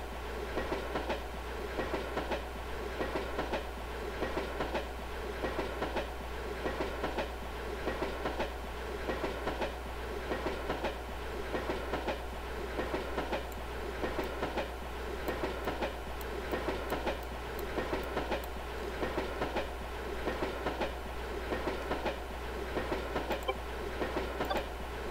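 An electric train runs along overhead-wired track in the A-Train 9 simulation game, its steady rolling rumble and rhythmic clickety-clack of wheels continuing unbroken throughout, with a faint whine on top and no talking.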